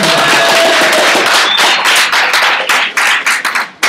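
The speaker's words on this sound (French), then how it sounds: "on peut les applaudir" A meetup audience applauds the sponsors, loud and close at first, then thinning into scattered individual claps as it winds down.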